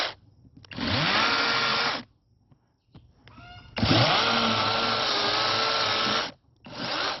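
A chainsaw carves a pumpkin outdoors in three loud sustained bursts with short pauses between them, revving up at the start of each cut.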